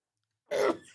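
A single sharp sneeze bursts out after a moment of silence, close and brief.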